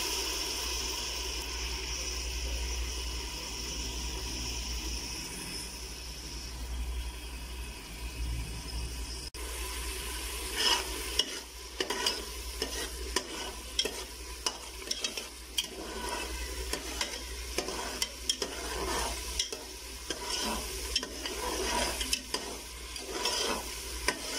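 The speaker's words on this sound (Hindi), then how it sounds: "ऑयल हमारा गर्म हो चुका है, इसमें हम लहसुन और प्याज का पेस्ट डालेंगे।" Continuous sizzling and crackling of garlic and onion paste frying in hot oil, with stirring scrapes and clatters growing busier partway through, close and steady.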